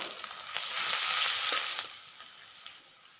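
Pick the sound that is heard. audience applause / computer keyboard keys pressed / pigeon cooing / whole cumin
whole cumin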